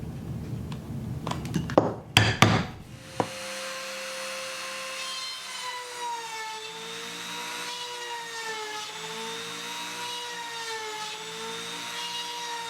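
Knockoff Dremel rotary tool grinding leather for a sheath, a steady whining hum after a few loud clunks and handling bumps at the start, running alone and close.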